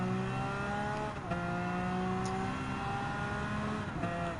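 Race car engines in Gran Turismo 7 drone and rev continuously, with a Mercedes SLS AMG and a 2014 McLaren 650S among the pack; tonal engine whine shifts pitch as cars upshift and pass, loud and close with no talk.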